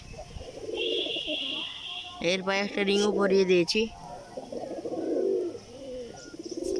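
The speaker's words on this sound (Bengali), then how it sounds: "খোতন যে কবুতরটা এখানে এসে ডাকাডাকি করছে" A young pigeon coos close by in a loft, short throaty calls mixed with a voice talking over them.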